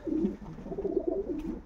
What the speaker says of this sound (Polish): Dzień wolny, dzień w gołębniku przy gołąbkach.